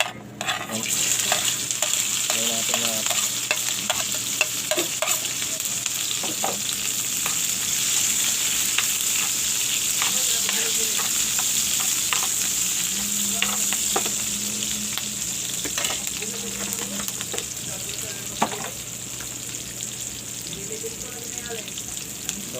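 Crab and octopus fry in hot oil, a steady close sizzle lasting throughout, with scattered clinks and scrapes of stirring and faint background noise.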